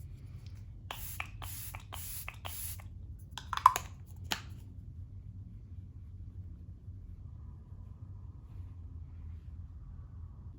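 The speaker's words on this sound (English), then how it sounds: "before I put on mascara, I'm gonna go ahead and use my setting spray" Several quick, close hissing spritzes of a makeup setting spray bottle, about four in a row and then a few more, over a quiet low room hum.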